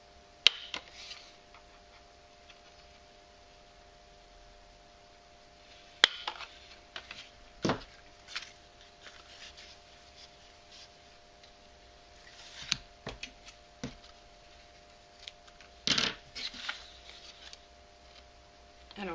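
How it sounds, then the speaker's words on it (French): Small hole-punch pliers pierce the sides of a paper card, making a few sharp, isolated clicks and snaps spread out over quiet room tone, close and fairly faint. "je perce les côtés pour pouvoir passer mon ruban"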